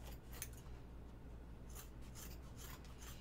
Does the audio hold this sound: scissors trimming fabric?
yes